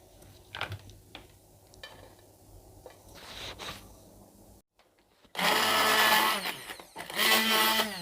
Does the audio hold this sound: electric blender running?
yes